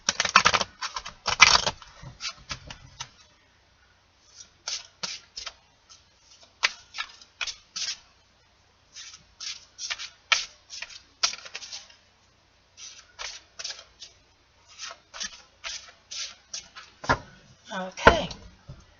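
A deck of reading cards is shuffled and handled by hand, bursts of crisp clicking and riffling snaps in irregular clusters with short silent gaps, close and dry.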